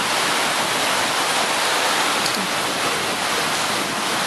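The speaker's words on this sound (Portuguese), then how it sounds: "Olha só o tanto de água, olha só. É água demais, olha só o rio" Floodwater surges down a flooded street in Vicente Pires, a loud, steady, broadband rush like a river in spate, roaring continuously and close with no break and no voices.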